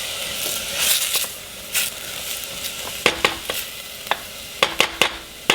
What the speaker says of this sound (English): What we're going to do is cook this till the onions get transparent